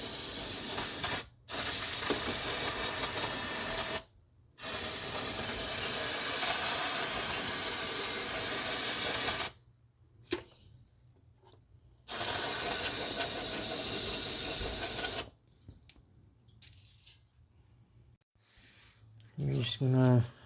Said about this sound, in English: So we're just going to wash this down first with some brake cleaner.